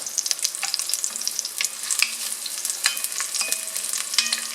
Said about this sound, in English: to bring out the flavor of our ingredients, we really have to saute them very well